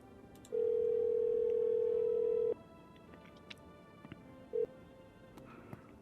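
A steady telephone tone sounds for about two seconds, then a short second beep follows, with faint background clicks, as a phone dials the neighbor in the video game No, I'm Not A Human.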